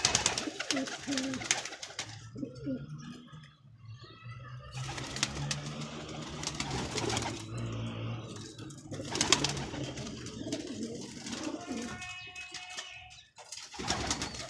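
Domestic pigeons at a home loft coo in low, repeated, rolling calls close by, with occasional chirps and some fluttering and rustling around them.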